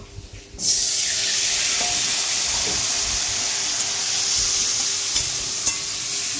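Potatoes frying in a pan, a steady loud sizzle and hiss close by with faint scraping clicks of stirring, no talk.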